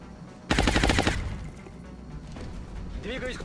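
A weapon in XCOM fires one loud, sharp burst that crackles quickly for about half a second and then fades into a rumbling tail, with a voice rising faintly at the end.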